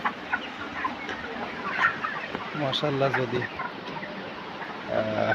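Broiler chickens on a poultry farm, a dense chorus of clucks and throaty calls close by, with someone talking over the birds.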